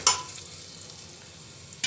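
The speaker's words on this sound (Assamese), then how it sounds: "অলপ সময় ভাজি দিম এয়া পিয়াজখিনিও ৰঙচুৱা হৈ আহিছে" Steady low sizzle of onions and spices frying in a pan for chole, with a scrape or stir at the start and end; no voices.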